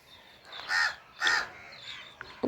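Two loud, harsh crow caws close by, followed by fainter calls and a couple of short clicks in quiet surroundings.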